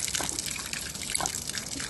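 Water pouring nonstop from a broken-off tap on a street water barrel, a close, steady splashing gush with trickling detail throughout.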